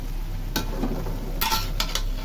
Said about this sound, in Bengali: এখন আমি ভাজা মাছগুলো দিয়ে দিই, সবগুলো মাছ দিয়ে দিই।